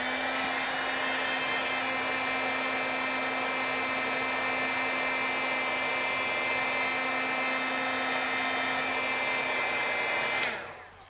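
A heat tool melts embossing powder on a card, giving a loud, steady, even whirring blow that runs for about ten seconds before cutting off abruptly near the end.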